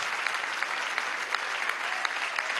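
An audience claps steadily at a Venezuelan community health spokespeople meeting with President Maduro, a dense, even applause that runs the whole moment without any voices.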